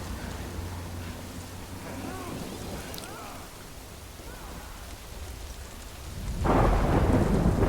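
Steady rain pours down with a deep, rolling rumble of thunder in the Death Stranding video game, and a heavier downpour surges loudly near the end.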